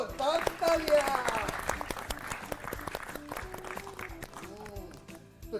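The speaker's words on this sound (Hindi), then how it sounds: "एक बार फिर से जोरदार तालियां।" Loud audience applause on a Hindi-language school quiz show, building early and slowly fading under music while a host talks over it.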